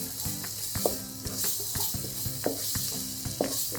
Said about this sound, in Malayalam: ഇപ്പം ഞാനൊരു 8-9 മിനിറ്റ് ഇളക്കി കാണാം